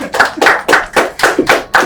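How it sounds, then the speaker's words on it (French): An audience on a talk show claps for a guest in loud, rhythmic unison, about seven strong evenly spaced claps close up. "Maximum d'acclamations pour Vini Balthazar, s'il vous plaît"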